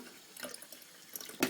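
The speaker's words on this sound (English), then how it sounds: "Let's turn on my kitchen tap." Water from a kitchen tap trickles and splashes unevenly into a glass, quiet and close, with a louder splash near the end.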